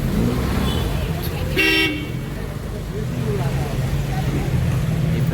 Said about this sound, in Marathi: सगळे कार चालले जातात विंटेज सगळ्या